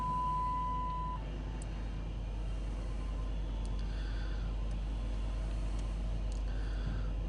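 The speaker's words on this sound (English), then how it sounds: "Vehicle's running." Dodge engine idling with low oil pressure, a steady low hum with a faint electronic beep at the start and scattered small clicks, no speech.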